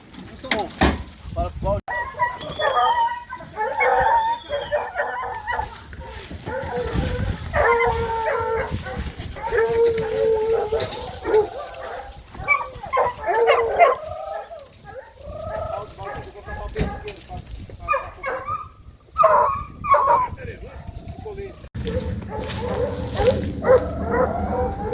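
Hunting dogs on a wild boar hunt barking and yelping repeatedly, loud and close, with people talking among the barks.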